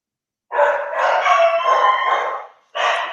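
Dogs barking inside a house, a burst of rapid, loud, overlapping barks that runs for about two seconds, breaks off briefly, then starts again close to the microphone.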